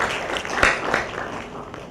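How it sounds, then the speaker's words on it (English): Applause from the audience at an IIT Madras alumni day event: a short burst of dense clapping that peaks quickly, then thins and fades over about two seconds, moderately loud in a large hall. "A big round of applause for that."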